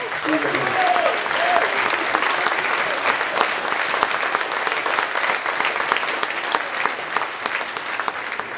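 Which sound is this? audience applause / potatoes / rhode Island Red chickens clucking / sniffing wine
audience applause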